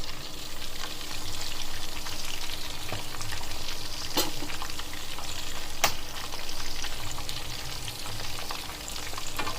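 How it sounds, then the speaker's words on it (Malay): Chicken pieces frying in hot oil give a steady, dense sizzle and crackle that carries on unbroken, with a couple of sharp pops rising above it, close and alone without talk. "Memang kalau goreng ayam cara ni memang ayam tu wangi ya"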